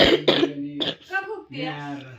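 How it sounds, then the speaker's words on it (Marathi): A woman with a cough gives several short harsh coughs at the start, followed by voiced, speech-like vocal sounds, close and clear. "खोकला असू ती खोकती"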